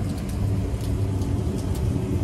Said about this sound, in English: But it's raining like a motherfucker.